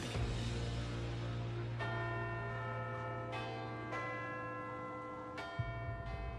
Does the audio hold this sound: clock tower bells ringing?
yes